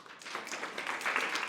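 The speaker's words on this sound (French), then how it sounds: "Ah, vous applaudissez à toutes... trop bien," Studio audience applauding, a dense steady patter of many hands clapping at moderate volume, swelling slightly toward the end.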